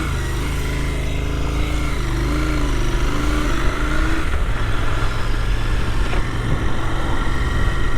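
A Royal Enfield Continental GT 650 motorcycle being ridden, a loud steady engine drone with shifting pitch as it revs, heavy wind rumble over the whole stretch.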